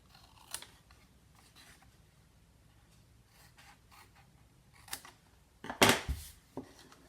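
Paper box edges are trimmed by about a quarter inch with sharp, scattered snips and clicks, mostly faint and spaced apart, then a louder cluster of cuts and rustling near the end, close by with no speech.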